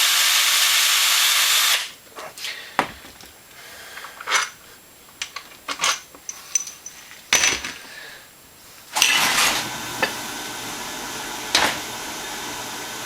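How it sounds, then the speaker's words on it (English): A power drill backs bolts out of a Hydro-Gear lawn tractor transaxle. A sustained whir is followed by several short, sharp bursts with quiet gaps between them, then another longer run close by. "I just take them out with a drill."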